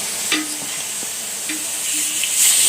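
A spoon stirs turmeric into a bamboo shoot stir-fry in a pan just after the gas is switched off. A few distinct scraping strokes sound over a soft, lingering sizzle, close and clear, with no talk.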